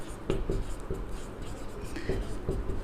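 Marker or chalk strokes on a board during a physics lecture on electric field intensity: a series of short, close taps and scratches with brief pauses, over faint room noise and no talking.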